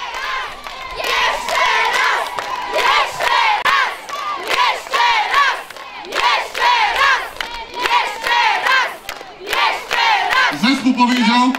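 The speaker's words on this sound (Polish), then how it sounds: "A Państwo w tym czasie klaszczą i głośno wołają." Harvest festival concert crowd in Kikół clapping and shouting in loud chanting bursts, many voices rising and falling in waves over rhythmic hand claps, close and energetic.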